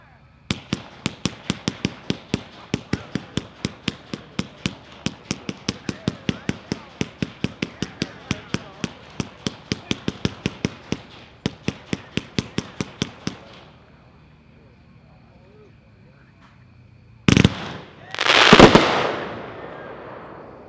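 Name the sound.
fireworks, Pyroland Heavenly Star, 59 shots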